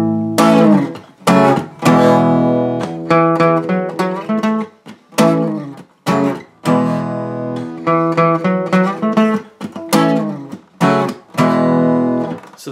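Guitar lead-in to the verses of a song, played solo with sustained chords and melodic notes in short phrases separated by brief gaps, close and full.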